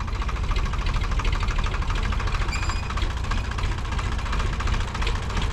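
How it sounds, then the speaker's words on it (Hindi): An Eicher 551 tractor engine idles roughly and struggles, a steady close, loud low rumble with a knocking, uneven pulse running throughout and no talk. "इस ट्रैक्टर का जी नहीं लग रहा, सांसें नहीं जुड़ रहा इस ट्रैक्टर का, पता नहीं क्या दिक्कत है इसमें"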